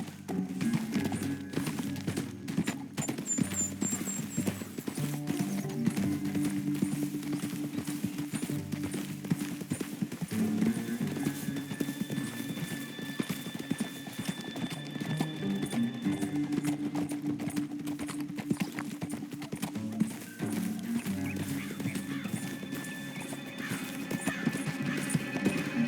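Horses gallop in Red Dead Redemption 2, with steady hoofbeat clip-clop and an occasional neigh over a continuous game soundscape, moderately loud.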